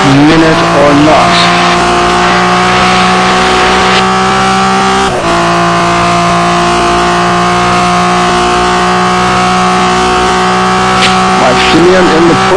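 Porsche race car in a Le Mans racing game, a loud sustained engine whine with steady harmonic tones and brief shifts, heard up close alongside other cars, with a commentator talking over it.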